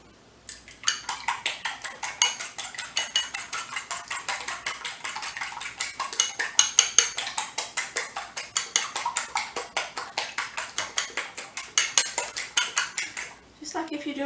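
A utensil beats eggs in a bowl for a fudge pie, making quick, rhythmic clinks against the bowl's sides. The strokes are close and crisp and run steadily for about thirteen seconds before a short pause.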